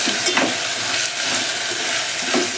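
Chili powder goes into a hot pan of radish dal, giving a loud, steady sizzle and frying hiss with a few soft stirring scrapes, close and without talk.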